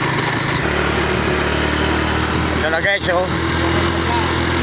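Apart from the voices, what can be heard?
motorcycle engine climbing a mountain road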